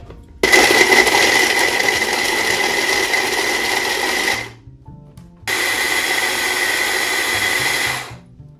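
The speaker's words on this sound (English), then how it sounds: "I've taken fresh Parmesan and I'm going to grate it." Fresh Parmesan cheese being grated by an electric appliance: a loud, steady motor whir running about four seconds, a short pause, then another three-second run, with no voices.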